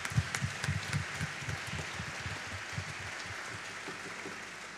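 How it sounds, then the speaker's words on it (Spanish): Applause from a live concert audience, fairly faint and distant, with a steady patter of claps. "Por favor, un aplauso."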